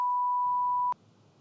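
Single steady censor beep tone, clean and sustained for nearly a second before cutting off, followed by faint room noise.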